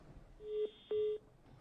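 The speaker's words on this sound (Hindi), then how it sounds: "तो इसी कड़ी में एक और दर्शक हमारे साथ फोन लाइन पे जुड़ चुके हैं, मोहम्मद शमशाद जी।" Two DTMF keypad tones sound over a quiet telephone line during a live call-in connection attempt on a Hindi news talk show, each a steady beep about a quarter second long with a short gap between them.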